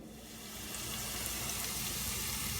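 Carrots, onion and celery mirepoix frying in a pan, a steady close sizzle and hiss that swells slightly and holds evenly throughout, with no voices.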